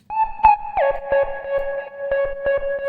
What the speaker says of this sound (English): This is Decapitator, and I'm using it a lot on this sound.